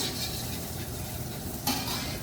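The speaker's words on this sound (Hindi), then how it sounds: "लहसुन को हल्का सा फ्राई करेंगे, सौते" Garlic sautéing lightly in oil in a pan for restaurant-style chilli chicken, a dense, steady sizzle close up with a brief stirring scrape partway through.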